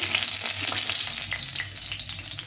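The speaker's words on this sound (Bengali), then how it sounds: "এখন তেল দিয়ে দিলাম এখানে দুটো শুকনো লঙ্কা দিয়ে দেবো" Dried red chillies sizzle steadily in hot oil in a pan after fish has been fried, giving a close, continuous crackling hiss with sharp pops scattered through it.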